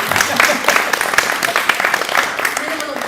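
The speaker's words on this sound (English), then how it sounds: "Clap again." An audience applauds at a panel talk on art, craft and design. The clapping is steady and crowded, with voices talking over it throughout.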